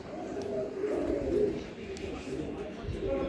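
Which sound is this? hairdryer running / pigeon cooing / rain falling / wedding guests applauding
pigeon cooing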